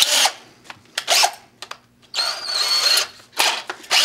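A paddle bit bores holes for anchor bolts that will attach floor joists to an ICF wall, heard as several short, loud bursts of power-drill whine and grinding separated by brief pauses, close up.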